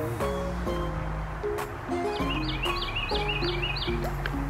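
Birds chirp in a garden, with several quick high tweets clustered near the middle and end over a steady outdoor hiss.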